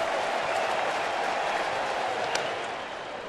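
A large baseball crowd at a postseason game with two strikes on the batter, a dense sustained roar of cheering and chanting from a distance, steady and loud throughout.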